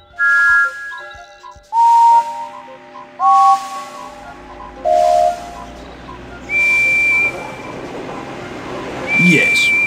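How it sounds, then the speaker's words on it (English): Steam-style train whistle of Percy the small engine, from a Thomas & Friends video game: a series of short, clear whistle tones of varying pitch, each sounded alone with pauses between, the last two longer and higher. "Can you find a whistle that sounds like Percy's"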